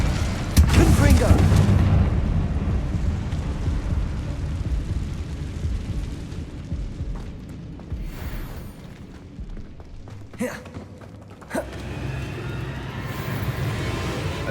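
Confringo explosive spell blasting in the video game Hogwarts Legacy, a loud rumbling burst up front over continuous game noise, followed by a couple of sharper cracks later on; a voice talks through it.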